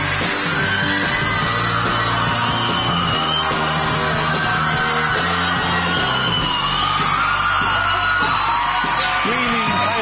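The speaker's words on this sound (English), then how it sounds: "now we have some young people in screaming every time your name is mentioned" A studio audience of young fans at a UK chat show screams and whoops loudly and without a break, a dense, high, excited crowd roar that fills the whole stretch.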